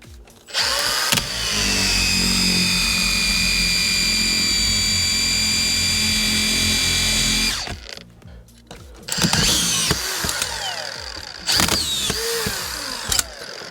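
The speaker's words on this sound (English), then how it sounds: "Now we just put a different clip of screws in, and these are going in like butter again." A Makita DFR551Z 18V brushless auto-feed screwdriver drives screws in a loud, steady whine lasting several seconds, then stops and restarts in shorter bursts with mechanical clatter between them.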